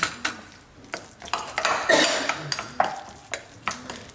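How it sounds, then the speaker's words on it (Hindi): A spoon stirs a thick semolina and curd batter for dahi vada in a bowl, giving a series of irregular close clinks and scrapes against the dish. "और वापस एक बार पूरा मिक्स कर देंगे अच्छे से"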